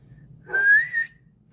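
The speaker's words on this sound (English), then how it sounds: "that was a cheesy whistle" A single short whistled note sliding slightly upward, heard alone against a quiet background hum.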